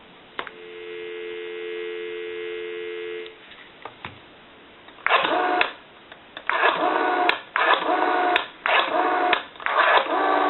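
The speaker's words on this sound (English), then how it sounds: "We'll give you some dial tone." A rotary desk telephone gives a steady dial tone for about three seconds, then clicks and loud bursts of line noise and a recorded announcement-like signal follow in several chunks, all on a thin, band-limited line.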